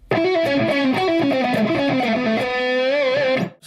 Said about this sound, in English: Okay, so now I'm going to play this a little bit confusing run, again very slowly for you.